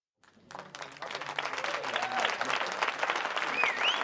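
A studio audience at a talk show breaks into applause that starts abruptly and swells into sustained clapping, with faint cheers and whoops rising over it.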